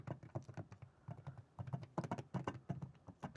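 Soft, muffled key presses on an Elgato Stream Deck in a quick irregular rhythm, close up and fairly quiet, like gentle taps on cushioned buttons.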